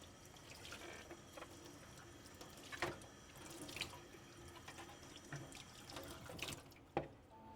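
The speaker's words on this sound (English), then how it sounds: "And now, under running water," Tap water running steadily into a sink while a welding face shield is rinsed under it, a faint continuous trickle broken by occasional drips and splashes, close and quiet, with no talk.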